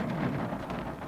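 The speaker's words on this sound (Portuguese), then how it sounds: "a chuva tá meio doida aqui" Rain falls outdoors during a thunderstorm as a dense, even hiss of drops with a low, muffled wash underneath. It is moderately faint and brief, with no speech.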